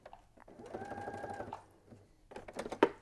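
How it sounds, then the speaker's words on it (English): A sewing machine stitching fabric for a knitting tool caddy, with a short run of rapid mechanical stitching, a pause, then a few clicks and a louder clack nearby. "So I'm going to take a couple stitches, pivot with my needle down."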